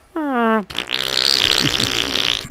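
A voice imitates a fart: a short hummed tone breaks into a loud, sputtering, raspy blow lasting about two seconds, close and alone.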